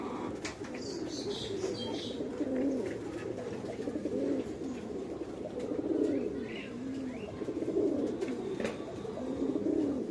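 Giachulli pigeons coo in repeated soft, throaty phrases, with a few faint chirps and light rustling nearby.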